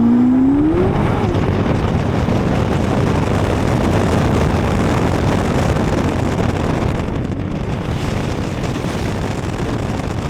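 A 2026 Corvette ZR1X hypercar drives at speed on the street, its engine a loud, steady roar with heavy wind rush, a brief rising note early on and no talk.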